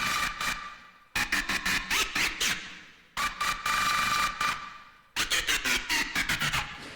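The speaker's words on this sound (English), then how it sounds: "this mechanical sound that's kind of at the forefront of the choruses" In a song chorus, a gritty, pitch-automated mechanical effect chugs in rapid pulsing bursts, repeating in four roughly two-second cycles with brief gaps between, loud and dense with no voices.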